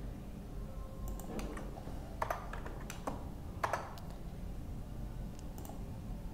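A spreadsheet formula being typed on a computer keyboard gives sparse, separate clicks and a few sharper keystrokes. They are spaced irregularly over a soft background hum, and no voice is heard.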